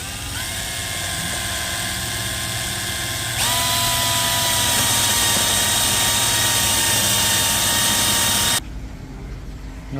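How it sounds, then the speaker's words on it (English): A Forstner bit bores gently into a Starlink satellite dish, giving a steady high-pitched whine that grows louder partway through, runs for several seconds and stops abruptly near the end. "we're going to put the Forstner bit right in here, and we're going to go real gentle"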